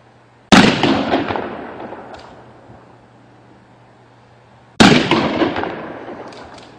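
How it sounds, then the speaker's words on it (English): Two loud 12-gauge shotgun blasts fired outdoors by police, sharp and close, each followed by a long fading echo, about four seconds apart. "It's a 12-gauge shotgun."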